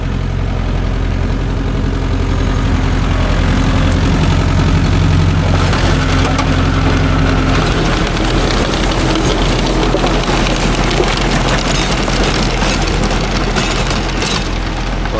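A Mahindra Yuvo Tech Plus 585 shuttle-gear tractor runs with a bladeless rotavator, its heavy engine droning loud, steady and close for the whole stretch, with no talk.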